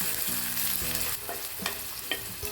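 Green chillies and ginger-garlic paste fry steadily in a pan for a Hyderabadi chicken curry, giving a continuous close sizzle broken by a few clinks and scrapes as the mixture is stirred, with no talking.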